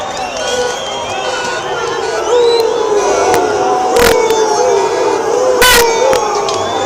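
A crowd at a South African immigration protest march cheers and shouts as it moves, a loud, continuous wash of voices with a couple of sharp, brief bursts rising above the din.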